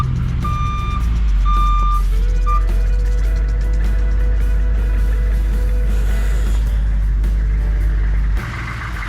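A food truck backs into its spot at the Oregon State Fair, its reversing alarm beeping steadily over a loud, low engine rumble that continues close by after the beeps stop.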